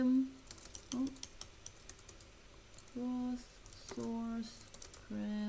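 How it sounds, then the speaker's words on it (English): Computer keys clatter in quick, short bursts of typing, close and fairly quiet, separated by brief pauses, with a voice talking faintly between them. "I'm going to type it here"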